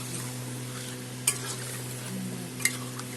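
A Bengali pabda fish curry broth with eggplant, turmeric and salt bubbles in a pan, a soft steady simmer with a low hum and two brief clinks of a utensil.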